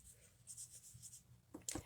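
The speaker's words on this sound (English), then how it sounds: "And then I'm going to just, again, start coloring in." Pencil coloring in on a hand-stamped card, a soft scratchy scraping of graphite strokes on paper, faint and close, with a couple of sharper rubs near the end.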